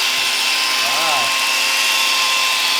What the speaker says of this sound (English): he is polishing our crank right now while the block is in the hot tank